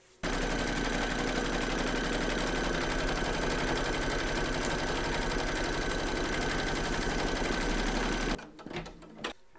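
An embroidery machine stitches a crazy patch quilt block held in the hoop, a loud, fast, even mechanical chatter that runs nonstop for about eight seconds before cutting off, followed by a few faint handling knocks.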